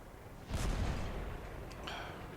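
A 105mm gun on a Dicker Max tank destroyer in World of Tanks fires once with a deep booming blast, followed by a rumbling tail and a faint metallic reload clink.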